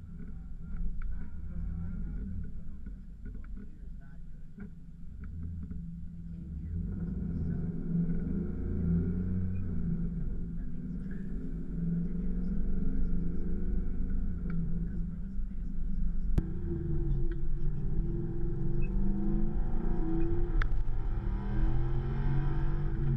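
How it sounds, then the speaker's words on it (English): An ICON New School restored and modified Ford Bronco drives along with a steady low engine rumble that builds slightly in loudness over the run, heard from inside the vehicle. "So let's take this one for a drive."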